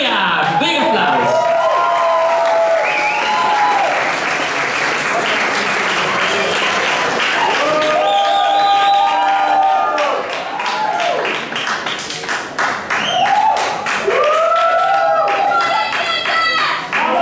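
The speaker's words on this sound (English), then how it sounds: "Big applause!" Loud, sustained applause and clapping from a charity bachata festival crowd after a flash mob, with cheers and whoops rising over it and swelling again near the end, with voices mixed in.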